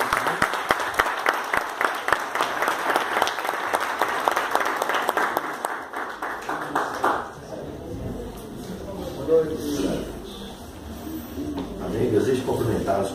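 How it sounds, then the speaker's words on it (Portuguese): A church congregation applauds for Jesus, with dense, loud clapping that fills the first seven seconds and then thins into scattered claps and murmuring voices. "a salva de palmas para o Senhor Jesus"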